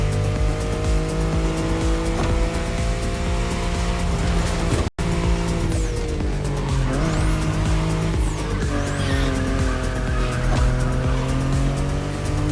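A BMW i8 in The Crew Motorfest drives hard, its engine droning steadily with tire squeal and skidding, the loud motor tone rising and falling through gear changes, broken once by a brief cut.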